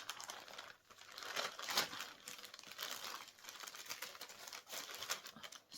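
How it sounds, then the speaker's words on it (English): Packaging rustles and crinkles continuously while a parcel is wrapped for posting as a large letter, a close, moderately loud crumpling texture with irregular bursts and no voices. "sorry about the rustling"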